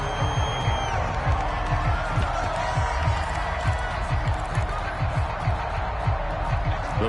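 A stadium crowd roars continuously at a PS4 football game, a dense, steady wash of cheering with a low rhythmic thumping running underneath throughout.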